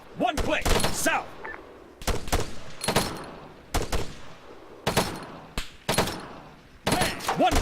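Rapid bursts of machine gun fire from a war video game crack out in repeated short volleys with pauses between them, loud and close, mixed with other gunshots.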